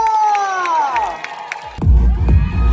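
A concert crowd at a new girl group's debut stage cheers and claps, with shrill whoops and shouts; music with sustained tones plays first, then the cheering swells louder near the end.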